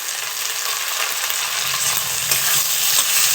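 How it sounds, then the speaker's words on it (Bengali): Vegetables and spring onion greens stir-fry in a lightly oiled pan, a steady loud sizzle with scraping stirs that runs unbroken throughout. "আমার সবজিগুলো সব ভাজা হয়ে গেছে।"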